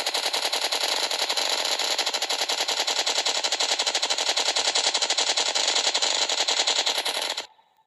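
Automatic gun from the Project Homeland Minecraft mod firing in one long unbroken burst of rapid, evenly spaced shots. Loud and close throughout, it stops abruptly near the end.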